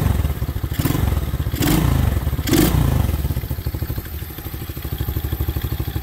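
A small Apollo 125cc ATV engine with an upgraded carburetor runs close by, its steady idle chug broken by three quick throttle blips that rise and fall, then settling back to a loping putter.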